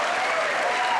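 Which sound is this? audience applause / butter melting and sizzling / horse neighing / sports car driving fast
audience applause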